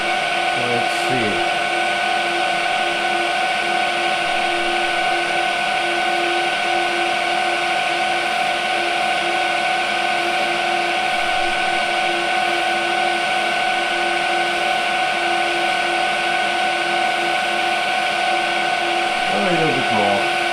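Angle grinder chamfering a metal edge to 45 degrees, a loud constant high whine running steadily throughout, with brief spin-up and spin-down at the start and end and speech over it.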